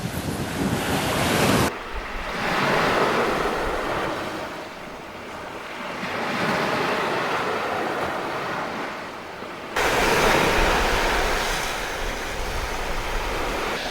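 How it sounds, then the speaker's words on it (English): Loud sea waves break and surge on a beach, with heavy wind buffeting the microphone, swelling and ebbing over several seconds and no voices. "I really hope you can hear me over the sea. It's very loud today."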